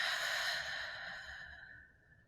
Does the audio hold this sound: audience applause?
no